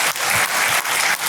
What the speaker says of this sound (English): I do want to give a round of applause for all of our Titan Award nominees